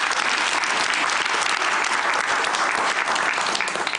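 A television studio audience on a Georgian late-night show breaks into dense, loud, continuous applause that holds evenly for four seconds.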